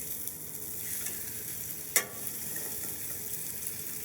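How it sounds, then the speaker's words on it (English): Duck confit pieces sizzling skin-side down in a hot pan, a steady close frying hiss with a single sharp pop partway through, no voices. "Try to get a little bit of color and hope that this duck skin may stick if the pan's a little too hot"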